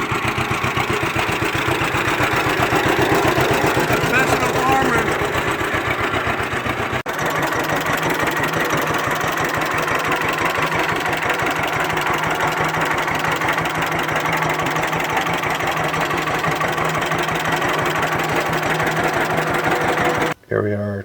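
A restored John Deere Model H tractor engine runs steadily close by, a continuous loud rumbling idle with rhythmic low pulsing throughout.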